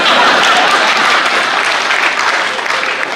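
An audience at a Hindi comedy poetry event applauds loudly, dense sustained clapping from a large crowd that fades slightly toward the end.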